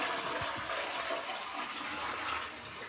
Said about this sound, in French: L'eau savonneuse sert pour la chasse d'eau. Et ensuite, nous versons.